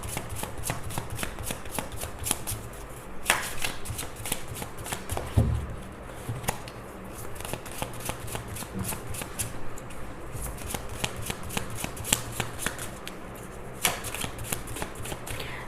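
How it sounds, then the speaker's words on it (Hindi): A deck of tarot cards is shuffled over and over nearby, with crisp riffles and soft slaps repeating in a steady rhythm and only a stray thump in between. "ओके, तो ये टैरो कार्ड्स यूज़ कर रहे हैं।"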